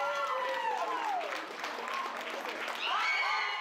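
Crowd cheering and applauding at a powerlifting meet as a woman attempts a 150.5-kilo lift, a steady wash of clapping and shouts with voices rising again near the end.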